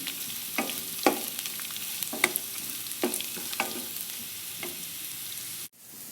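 Chopped beans and carrots fry in a pan for aval upma, a soft steady sizzle broken by several scraping stirs of a spatula, close and fairly quiet, ending abruptly.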